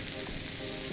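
Food sizzles on a grill while being stirred, making a dense, bright, crackling hiss that stays steady and close for a brief moment.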